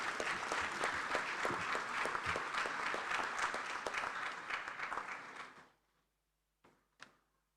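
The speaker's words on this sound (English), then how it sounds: "Please, another round of applause." At an African inter-parliamentary conference on family and values, a hall audience gives sustained applause after a speech, then the clapping thins and fades into quiet, followed by a couple of faint knocks or thumps.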